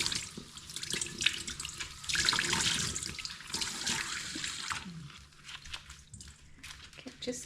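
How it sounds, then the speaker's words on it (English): Cold tap water splashing and running over wool in a sink, uneven gurgles and surges, fairly quiet and close, with a few faint background sounds. "Now, just going to run some cold water over my wool."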